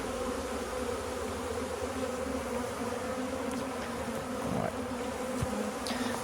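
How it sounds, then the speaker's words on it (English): Honeybees hum in a dense, continuous drone around an open beehive, quiet and even, with a few faint taps and knocks. "There's a hell of a lot of bees in there."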